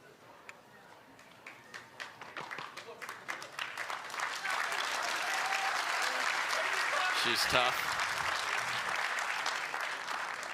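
Applause from the crowd at a pickleball championship match swells from scattered claps into steady, sustained clapping, with a commentator's brief remark in the middle.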